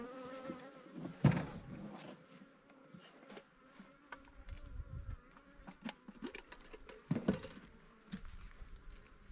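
Honeybees buzzing around a hive in the morning sun, gathering on a feeder of sugar water, a continuous close drone with individual bees swelling loudly past the microphone now and then.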